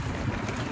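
Steady outdoor wind rushing and buffeting against the microphone, a continuous low rumble with no voices.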